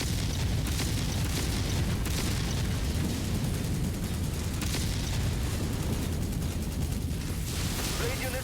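Mech weapons firing on chain fire in MechWarrior 5, a dense, continuous barrage of booming blasts and bursts that layer into a steady roar with no letup.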